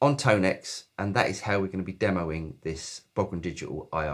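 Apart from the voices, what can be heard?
No everyday noise stands out behind the speech.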